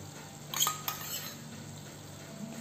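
A spoon stirs pasta sauce ingredients, including red chili sauce, in a pan, giving a couple of light metallic clinks and scrapes over a faint low sizzle, close and quiet.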